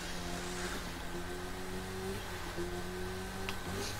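An engine in The Crew 2 racing game holds a steady high drone that slowly climbs in pitch, a continuous, fairly quiet revving with no talk over it.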